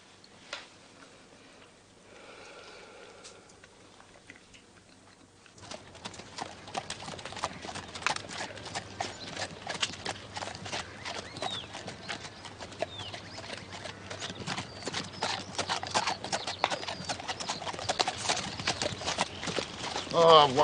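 Horse hooves clip-clop in a steady rhythmic patter that starts after a few quiet seconds and grows nearer and louder, with a brief low voice near the start.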